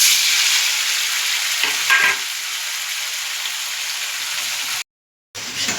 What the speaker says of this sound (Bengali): মিডিয়াম আঁচে রেখে এটা আমরা ভেজে নেব।